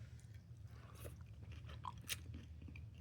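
Close, quiet chewing of salmon croquettes and curried coleslaw, soft crunches and moist bites in a steady rhythm.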